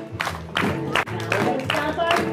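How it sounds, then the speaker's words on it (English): Audience at a children's summer reading sing-along clapping hands in a rhythmic beat, sharp repeated claps about every half second, mixed with a voice and crowd sounds. "Everybody clap your hands."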